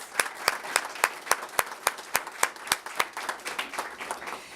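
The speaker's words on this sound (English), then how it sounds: "Let's give everyone a round of applause." Audience applause at the opening of transitional housing at Louisville's Chestnut Street YMCA: sharp, evenly spaced claps in a steady rhythm with softer clapping between them, close and continuous.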